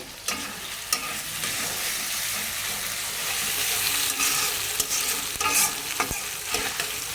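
Bay leaf and ginger-garlic-cumin paste fry in hot oil for a potato curry, a constant crackling sizzle broken by scattered scraping stirs and clinks of a utensil.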